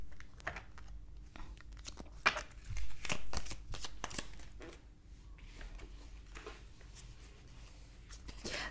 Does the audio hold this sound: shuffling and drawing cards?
yes